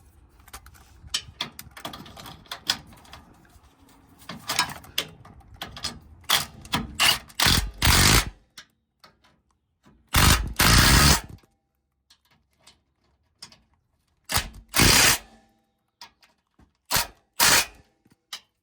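A ratchet tightens the sway bar bushing bolts on a Toyota 4Runner, starting with scattered light clicks and moving to several loud, close bursts of rapid clicking separated by pauses, with no talking.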